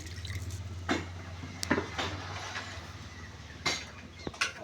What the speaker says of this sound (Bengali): কড়াতে দিয়ে দিচ্ছি আমি পরিমাণ মতো জল